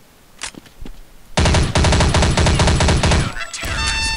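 Rapid submachine gun bursts from Counter-Strike: Condition Zero gameplay rattle loudly for about two seconds after a few quieter shots, then fade into ringing and casing clinks.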